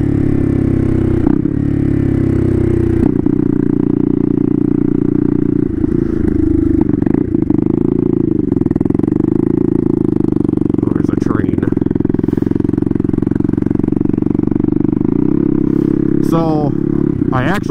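A turbocharged Honda Grom with a swapped-in CBR engine runs on light throttle, a loud steady engine drone that holds and swells under riding wind, with rising revs and brief clatter near the end.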